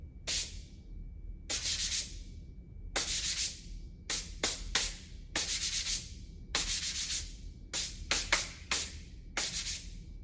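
Two sanding blocks wrapped in sandpaper are rubbed against each other in a series of separate sharp, scratchy strokes, some long and some quick, close up and steady against a quiet background.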